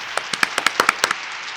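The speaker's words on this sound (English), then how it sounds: "Let's give a big round of applause to Chris Beck." A small audience claps for a puppet-using comedian, about a dozen sharp, scattered handclaps close by over roughly a second, then quickly fading out.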